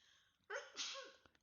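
A single close, sharp sneeze in a quiet room, with a quick inhale just before the burst.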